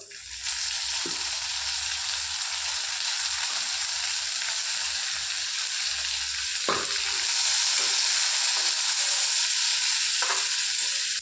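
Tomatoes sizzle in hot oil in a pan with fried onions and whole cumin, a steady close crackling hiss broken by a few soft stirring knocks.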